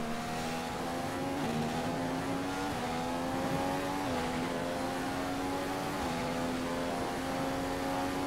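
Green Ferrari engine in the F1 2015 racing game at the Malaysian GP, a sustained high-pitched whine holding steady with small pitch steps as gears shift, loud and continuous.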